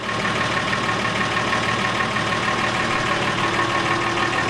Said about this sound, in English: So there's the engine running.